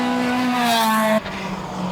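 Subaru Impreza engine wailing at high revs on a gravel hillclimb course, a strong steady note that shifts down sharply as the driver changes gear, close and loud.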